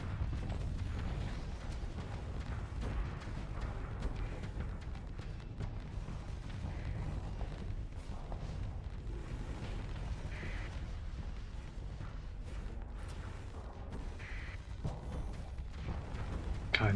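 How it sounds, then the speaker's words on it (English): A dense barrage of micro missile explosions in the space combat game Starsector, a continuous rumbling roar of overlapping booms and bursts with no distinct gaps, loud and sustained for the whole stretch. "look at that micro missile spam"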